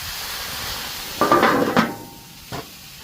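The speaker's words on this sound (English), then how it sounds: "And we're going to steam them." Hot dog buns steam on a Blackstone griddle with a sudden loud hiss and sizzle that fades, followed by a brief clatter, all without voices.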